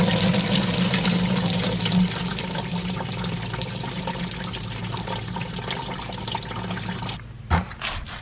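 Antifreeze drains steadily from a pulled radiator hose, a continuous close splashing and trickling pour that runs for about seven seconds, then stops abruptly and leaves only a couple of faint drips.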